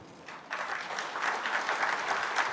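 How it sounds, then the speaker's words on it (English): Audience applause following a speech at a stakeholders' dialogue on the Rohingya crisis in Cox's Bazar, steady dense clapping filling the room, alone without voices. "I would like to clap again for his wonderful speech"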